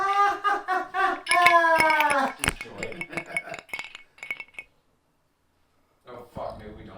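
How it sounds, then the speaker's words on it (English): Voices and laughter up close in a bar, followed by a few light glassy clinks and taps of a mezcal bottle and glasses, then brief silence before quiet chatter resumes. "That's the sound of mezcal."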